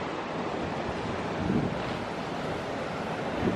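Sea surf washing against the rocky shore at Portland, Maine on a fine autumn day, a steady broad roar with slight swells, mixed with wind buffeting the microphone, no voices.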